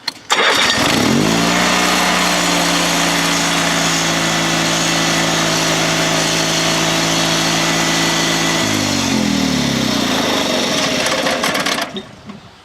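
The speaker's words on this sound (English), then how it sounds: "the drive shaft is always spinning while it's running, and I'll just demonstrate that here." Honda 3813 lawn tractor engine starts with a sharp catch, then runs loud and close at a steady idle with the drive shaft spinning. Near the end it winds down and stops. No talking.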